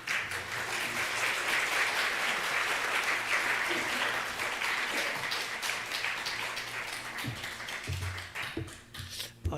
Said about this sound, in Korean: 이제 정 목사님 나오실 때에 우리 주께 감사하는 마음으로 박수로 환영하겠습니다.